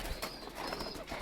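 Pigeons in a loft coo softly and nearby, giving a brief, low, rolling call in a quiet room.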